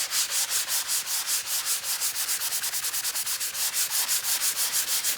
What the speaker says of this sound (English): so I'm just going to sand a little bit.